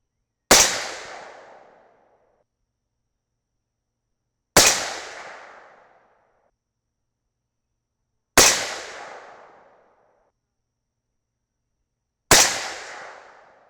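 .308 Winchester rifle firing 175-grain Sierra MatchKing handloads with IMR 4064 powder: four loud, sharp shots spaced about four seconds apart, each with a decaying echo tail and silence between, no talking.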